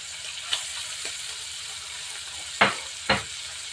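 Garlic and ginger frying in a pan for Ilocano pinakbet, a soft steady sizzle with a few sharp pops and spatters standing out, no talking.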